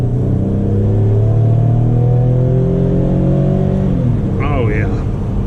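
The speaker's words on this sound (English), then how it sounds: "We'll do one more quick takeoff here. Full throttle that time." A 2005 Toyota Highlander V6 Limited makes a full-throttle takeoff, its engine droning loud and close with a rising pitch that climbs steadily before easing off near the end.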